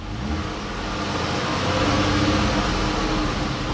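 A Dodge Charger with a V6 engine, running rough, revving under light throttle, a steady close engine drone that swells slightly in the middle and holds, with no talking.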